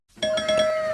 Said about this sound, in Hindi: अरे तीन बार कौन डोरबेल बजाता है भाई?